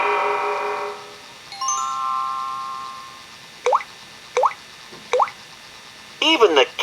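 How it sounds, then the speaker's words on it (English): Drops from a leaky kitchen tap fall in three distinct plinks at an even pace, close and clear, after a spoken voice and soft tones, with a quick burst of bubbly plops at the end. "Even the kitchen tap won't stop dripping, said Pooh to himself."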